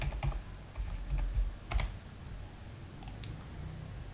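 Keys clatter on a computer keyboard as an ID number is entered, in a few quiet bursts of close clicks separated by pauses, with no voices.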